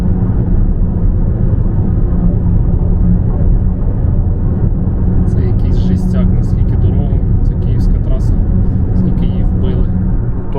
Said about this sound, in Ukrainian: Дорога жесть по звуку, от я в лівій смузі їду